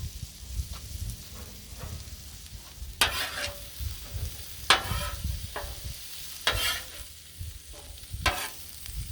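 Southwestern chili mac sizzles on a Blackstone griddle outdoors in a light breeze, with a steady frying hiss broken by several loud scraping spatula strokes, no one speaking.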